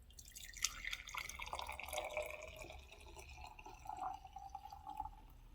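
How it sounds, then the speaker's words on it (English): Hot borax solution trickles and drips as it is poured into a glass mason jar, a faint steady liquid pour with no talking. "I'm going to pour this liquid carefully into my mason jar because it is hot"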